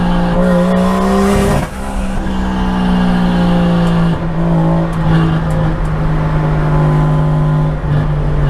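A loud, close 1JZ engine in a Chevy Nova, running rich and breaking up, drones at high revs with a slightly rough, uneven note, and the pitch drops briefly early on.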